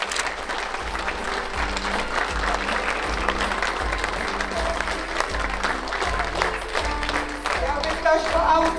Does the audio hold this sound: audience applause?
yes